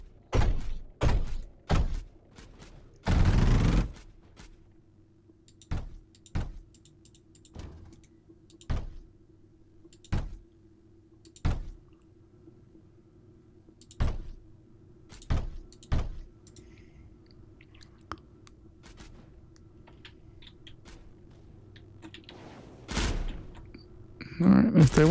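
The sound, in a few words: turrets shooting in video game Mindustry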